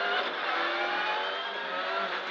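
Rally car racing past on a stage on the Isle of Mull, a loud sustained engine roar at full throttle that holds steady over a couple of seconds, with no speech.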